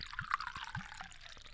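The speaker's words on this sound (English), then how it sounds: "I'd love to, but first, a little pouring ASMR." Sake poured into a glass, a soft, close trickle with small gurgling blips and drips over a quiet background, no voices.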